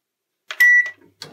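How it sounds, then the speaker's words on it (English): A microwave oven beeps, a single sustained electronic tone framed by brief clicks and soft handling sounds, heard close and alone. "It's the microwave."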